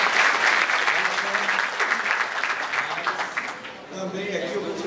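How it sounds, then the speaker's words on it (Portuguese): Audience at the opening ceremony of the 2018 ANPUH Amazonas history meeting breaks into warm applause, a full room of clapping that fades slightly toward the end as a few voices rise. "Por favor, uma salva de palmas."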